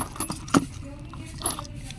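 Small metal keys for an Alpha Lock clink and jangle in short, light bursts, close and fairly quiet, with faint background noise.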